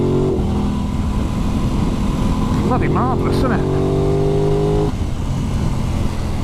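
An Aprilia RS660 super sport motorcycle pulls hard in third gear from around 2000 revs, its engine note rising steadily and loud under a rider's commentary before dropping off near the end.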